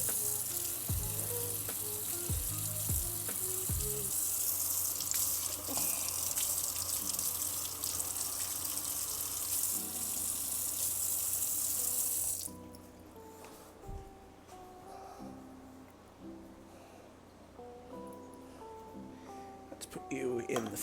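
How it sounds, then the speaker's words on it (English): Tap water running into a sink to rinse thermometers during film developing, a steady loud splashing flow for about twelve seconds that then cuts off, followed by faint drips, clinks and handling noises. "Rinse off my thermometers."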